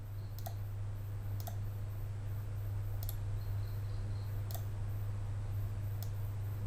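Sharp mouse clicks on a computer while adding a table border in Microsoft Publisher, about five spaced single clicks over a steady low hum, with no talking.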